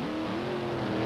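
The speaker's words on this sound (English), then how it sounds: "Joe Amato ready to do his burnout in the finals of Top Fuel Eliminator" Top Fuel dragster doing its burnout in a Top Fuel Eliminator final at the 1991 NHRA Heartland Nationals, a loud, close, continuous engine roar with a sustained rising tone.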